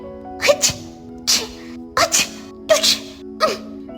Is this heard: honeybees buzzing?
no